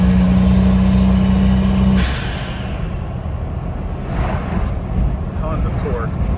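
A turbocharged 4.7 stroker Jeep Wrangler Rubicon engine pulling hard from low RPM, a steady loud droning growl with a faint whistle rising, heard from inside the vehicle with a person talking over it.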